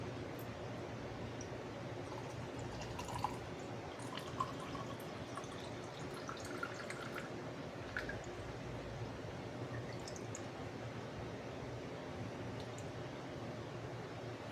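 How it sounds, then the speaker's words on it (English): Plain tap water running into a container, a quiet, continuous trickle with occasional soft drips and splashes, heard alone at low level. "I've got just some regular tap water, and I'm going to go ahead and fill this up to the 20."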